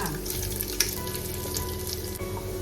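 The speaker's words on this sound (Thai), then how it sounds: "พอน้ำมันเริ่มร้อนใส่ป่อยกั๊กค่ะ อบเชยค่ะ กระเทียมค่ะ พริกไทยค่ะ" Star anise, cinnamon, garlic and pepper fry in hot oil for Thai braised pork leg. The sizzle is loud and steady, and there is one small knock, but no voice.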